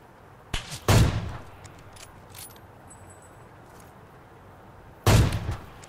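Gunshots in the mobile game PUBG Mobile: two sharp, loud bursts about four seconds apart over a quiet background hum, with no talking.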